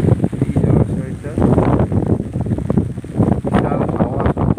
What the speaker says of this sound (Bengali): বিশাল হাওয়া, বৃষ্টি হচ্ছে।